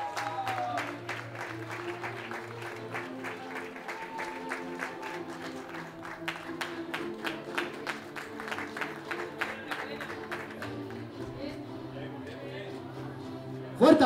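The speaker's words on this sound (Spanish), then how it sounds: "Fuerte aplauso para Manuel Vera Borrego." Crowd applause for a participant at the Desafío Pinar Extremo race, with a steady run of claps under a background of music or chatter, moderately loud throughout.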